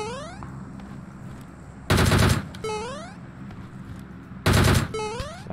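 A DP machine gun fires in the shooter game PUBG Mobile in two loud, close, sustained bursts of about half a second each, separated by quieter stretches with rising electronic game tones.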